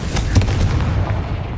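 A Confringo spell exploding in the Hogwarts Legacy video game: a loud, close, booming blast with a dense low rumble that sustains and fades slowly, with no talking.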